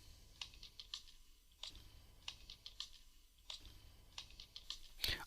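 Typing on a computer keyboard while entering text into a Microsoft Word 2016 table: steady bursts of close, crisp key clicks with brief pauses between them, ending on one sharper keystroke.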